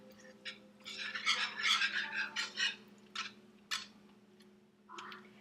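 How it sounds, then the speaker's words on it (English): A whisk beating butter into a sauce in a pan, a busy run of light scraping, swishing strokes that slows into a few separate swipes, close and fairly quiet over a steady low hum. "we're going to add the butter, and we're going to keep whisking it"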